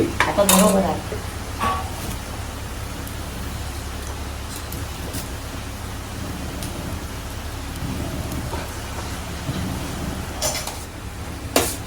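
Onions being stirred and sautéed in a pan while cooking prawn masala, a steady low sizzle with a few clinks of a spoon against the pan, heaviest at the start, and no talk.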